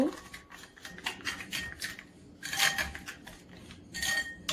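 An egg with a little salt is beaten briskly in a bowl, bursts of clinking, scraping utensil strokes coming in uneven clusters, close and fairly loud.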